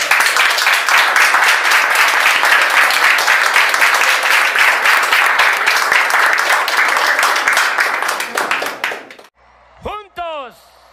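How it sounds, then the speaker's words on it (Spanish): A large rally crowd for Amlo in Puebla bursts into loud, sustained applause with dense clapping for about nine seconds, then it stops abruptly and a voice speaks. "Y un aplauso para..."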